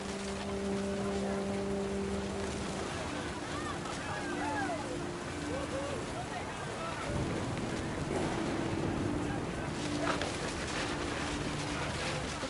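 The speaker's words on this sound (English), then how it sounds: "The rain came down in buckets then" Heavy rain in the video game What Remains of Edith Finch falls as a dense, steady hiss throughout, with a low rumble and faint tonal music underneath.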